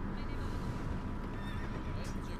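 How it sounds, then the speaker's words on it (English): Horse in the video game Skyrim whinnies, a brief neigh rising amid dense, noisy game sound, fairly loud but blended with the surrounding clatter. "Horse."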